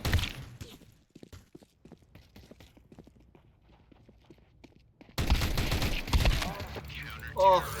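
Gunfire in Counter-Strike crackles as a scattered run of sharp shots and footsteps, then a louder dense burst of firing and game noise takes over partway through, with a voice talking over it.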